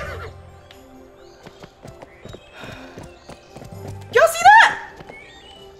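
Horse in Barbie Horse Adventures, clip-clopping hooves in steady steps, then a loud whinnying neigh near the end, with someone talking over it.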